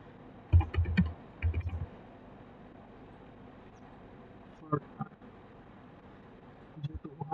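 Keys clatter on a computer keyboard in quick, close bursts of typing separated by quiet pauses, with a few isolated clicks near the end.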